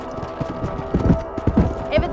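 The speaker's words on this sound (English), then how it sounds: "Let's get back on the horses and see what else is going on." Horse hooves clip-clop in Red Dead Redemption on PC, a steady rhythmic trot of several animals with a soft whinny near the end, with a voice talking over the clatter.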